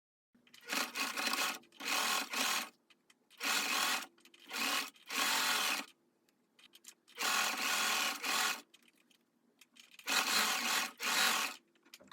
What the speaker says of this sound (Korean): 모자의 안감과 겉감을 합봉을 합니다.